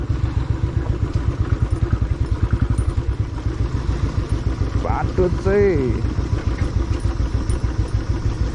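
A motorcycle ridden along a rough mountain road between Besisahar and Ghalegaun, its engine chugging steadily and close by, with the rider and passenger talking and exclaiming over it.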